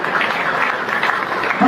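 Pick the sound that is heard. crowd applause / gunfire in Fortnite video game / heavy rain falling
crowd applause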